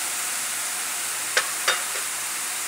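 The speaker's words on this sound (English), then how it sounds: "you can hear it's not sizzling as much" Haddock and mushrooms sizzle in a pan after wine is added, a steady, moderate hiss of frying with two or three faint utensil clicks and no voices.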